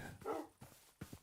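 Dogs in the Minecraft video game yip and bark in a few short, faint bursts over a soft, muffled background.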